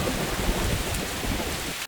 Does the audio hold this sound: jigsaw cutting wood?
no